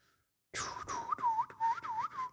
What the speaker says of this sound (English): Hey, I can whistle again.